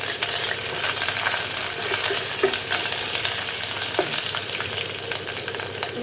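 Curry leaves and ginger fry in hot oil with a steady crackling sizzle, broken by scattered sharp pops and stirring clicks throughout, without speech.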